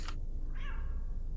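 A cat meows once in the video game Iron Nest, a short rising cry alone over a low steady background rumble, preceded by a brief hiss-like burst.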